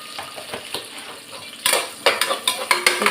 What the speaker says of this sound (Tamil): ஷாப் பண்ண பூண்டு, அதாவது சின்னதாக நறுக்கின பூண்டு, இதையும் போட்டுக்கலாம். நல்லா வதக்கிக்கிடலாம்.